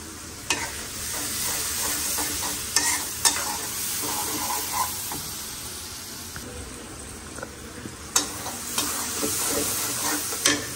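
Turmeric and chili powder fry in hot oil in a pan, a steady quiet sizzle broken by several sharp scrapes and clacks of a spatula stirring, with no voices.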